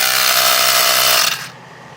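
A Ryobi 18V cordless inflator pumps up a tire. Its loud, steady motor whir runs close by for over a second, then cuts off abruptly into near silence.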